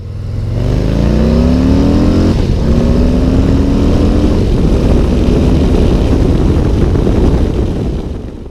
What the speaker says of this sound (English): if you rev it a little bit, you really get the power on the top end, and it is a quick bike